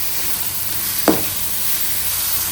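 A single sharp sizzle bursts as grated raw mango hits a hot pan of tempering, then settles into a steady hiss of frying.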